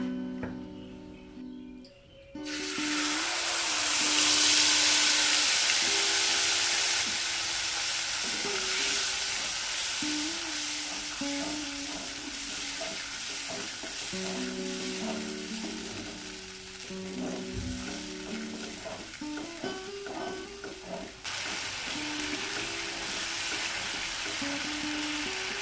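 Spice paste hitting hot oil tempered with fennel seeds while cooking a fennel koi fish curry: a loud, steady sizzle erupts at once and keeps hissing, with intermittent scraping stirs and faint clinks underneath.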